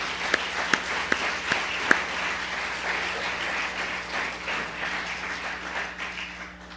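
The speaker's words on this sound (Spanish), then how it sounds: "Denle un aplauso a Cristo" Congregation applauding in a church during a Spanish-language sermon on family, beginning with a few distinct claps that swell into a steady wash of applause over a low hum.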